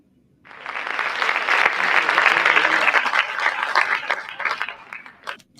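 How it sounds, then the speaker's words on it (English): Audience applause at a TEDx talk event: a crowd's clapping starts abruptly, holds as a dense, steady wash of hand claps for several seconds, then thins out toward the end, with no speech over it. "you hear the applause"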